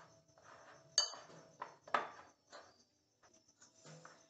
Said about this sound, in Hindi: यहाँ पे आप मिक्स करते जाएं इसी तरह से, अच्छे से मिक्स कर लें।